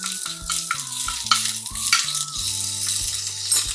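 Half a spoon of chili powder sizzles in hot oil on a switched-off flame while being stirred for a mutter paneer masala, a steady hiss with light scraping under prominent background music.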